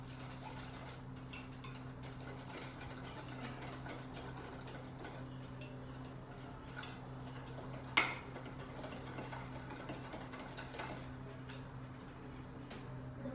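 Corn muffin batter mixed in a bowl, a steady run of soft scraping and clinking strokes of a utensil against the bowl, with one sharper clink midway, faint and close over a low steady hum.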